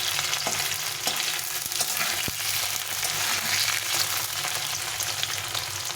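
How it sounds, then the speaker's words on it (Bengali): Paneer pieces fry lightly in a pan with oil, giving a steady, close sizzle and crackle that runs the whole time, with a few soft stirring knocks and no voices. "আমি একটুখানি হালকা করে ভেজে নিতে হবে।"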